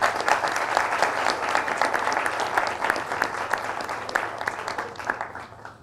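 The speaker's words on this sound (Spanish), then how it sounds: "Un aplauso para nuestro decano." Audience applause for a university dean at a faculty event, steady dense clapping from a room full of people that holds for several seconds before thinning out at the end.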